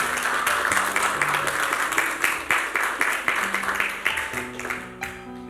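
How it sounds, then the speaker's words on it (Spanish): Church congregation applauding in praise during a Spanish-language sermon, steady clapping throughout with a sustained music tone underneath, fading toward the end. "Den un aplauso al Señor."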